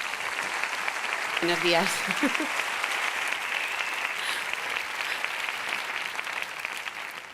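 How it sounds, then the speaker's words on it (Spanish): Audience applause greets the next speaker at a science talk event, a continuous crowd clapping that runs under a woman's greeting early on and then carries on steadily, slowly thinning toward the end. "Un fuerte aplauso para ella."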